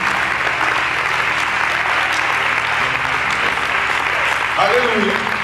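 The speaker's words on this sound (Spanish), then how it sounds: "Dale un aplauso al Rey." Church congregation applauding steadily at a worship service, a broad, even wash of clapping lasting throughout, with a brief voice rising near the end.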